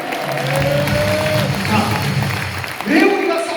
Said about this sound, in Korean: 우리 박수 한번 영광 돌려주세요.